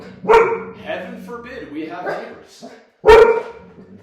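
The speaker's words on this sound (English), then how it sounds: "if you hear my dogs barking" Dogs barking nearby in loud, sharp bursts, one early and another about three seconds later, with a person talking over and between the barks.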